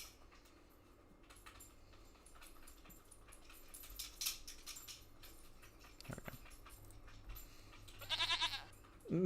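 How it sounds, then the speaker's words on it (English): A goat bleat sound effect, a few short faint bleats and noises over quiet background, with a louder burst near the end. "I love my little goat sound effect now."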